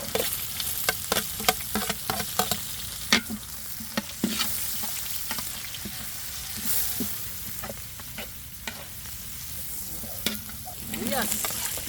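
Food sizzling and frying in a giant wok, with repeated scraping and clanking of a metal spatula as it is stirred.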